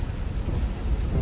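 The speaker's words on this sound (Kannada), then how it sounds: "ಮಳೆ ಭಯಂಕರ ಬರ್ತೈತೆ." Heavy monsoon rain pouring on a road trip along Bengaluru's NICE Road, with a deep roll of thunder over dense, steady rainfall.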